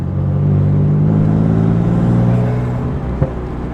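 BMW M2 with N55 engine on a stage 2 tune, revving steadily and loudly close by with a sustained droning harmonic tone that eases slightly near the end, followed by one short blip.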